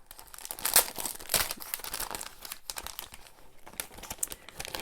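Crinkling of a cellophane envelope being handled for a scrapbook page, close and crisp, with irregular rustles and sharper crackles that continue steadily for several seconds without talk.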